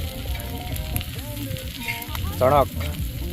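Fish frying in a pan at a Goan family outing, a steady close sizzle and crackle with a brief louder burst near the end, under faint background voices.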